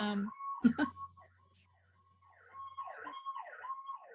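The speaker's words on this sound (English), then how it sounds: "Let me wait for this siren to go by." An emergency vehicle siren wails past with rising and falling sweeps, fading briefly and then returning louder toward the end, with a low engine-like hum and a brief knock early on.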